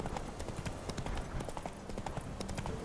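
Horse galloping in the video game The Witcher 3, with a steady run of hoof clip-clops at even pace, close and loud throughout over a low ambient bed.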